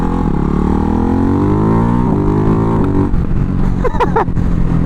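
Single-cylinder motorcycle engine running steadily and loudly up close, pitch sliding upward as it revs, with a brief break before more uneven, choppy engine sound and wind near the end.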